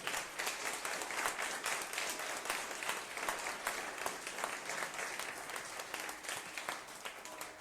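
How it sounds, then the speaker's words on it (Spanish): A church congregation applauds during a sermon, with steady, dense clapping from many hands that goes on without a break, moderately loud and filling the room. "Dale ese aplauso al Rey."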